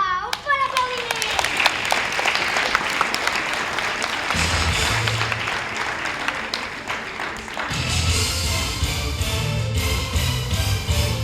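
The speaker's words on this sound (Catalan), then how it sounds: "Un fort aplaudiment!" Applause from a theatre audience at a junior amateur stage show, many hands clapping loudly and continuously, with children's voices and chatter mixed in and low musical tones entering partway through.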